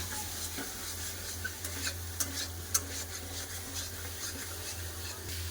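Spiced cauliflower being sautéed in a pan gives a steady close frying hiss, with scraping stirs and light clicks of a utensil scattered throughout and no talking.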